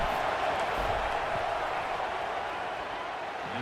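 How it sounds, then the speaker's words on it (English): Stadium crowd in the College Football 27 video game as a kicker lines up a field goal: a steady, moderately loud roar and murmur of many voices that stays even throughout, with no distinct cheers or claps. "This crowd trying to do its part to get inside the kicker's head."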